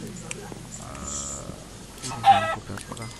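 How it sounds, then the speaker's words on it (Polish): Chicken clucking from the Minecraft video game, a few short clucks rising briefly amid a conversation between people talking over game sounds. "kura mi wlazła do domu"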